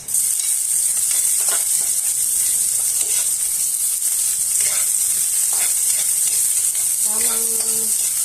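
Onions fry in a pan for chicken adobo with string beans, making a loud, steady, close sizzle with intermittent scraping from stirring and a short tonal beep near the end, with no talking.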